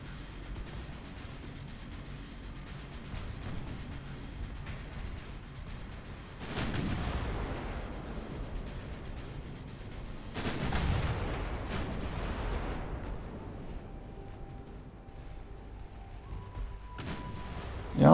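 Naval guns fire in the warship game Ultimate Admiral Dreadnoughts, heard as two deep booming salvos that roll out and fade over several seconds above a steady low rumble of ambient noise.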